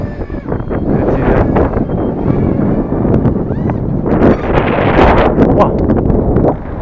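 Strong wind buffeting a VIFLY X150 drone's microphone in flight, a loud, rumbling, gusty roar that surges and rustles continuously, close and harsh.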